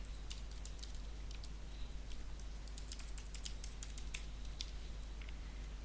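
Faint, quick keyboard taps as a password is entered on a computer keyboard, an irregular patter of keystrokes over a low steady hum.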